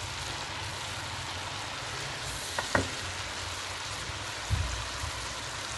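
Minced meat keema frying with masala in a pan, giving a steady dense sizzle throughout with a couple of faint stirring clinks, no voices.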